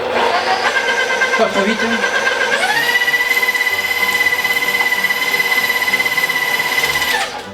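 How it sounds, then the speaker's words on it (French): An electric meat grinder mincing meat and fat for burgers, with a steady mechanical whir that rises into a higher, sustained whine before winding down. A voice speaks briefly over it. "Bol comme ça, viande, poussoir, machine tourne."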